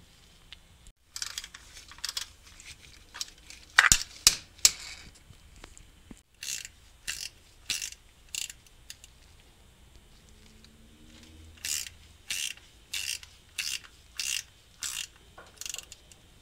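Quick bursts of ratchet clicking loosen the 10mm bolts on the transmission cover plate of a 2002 Honda Odyssey, repeated in rhythmic rapid strokes with pauses between, close and clear without talk.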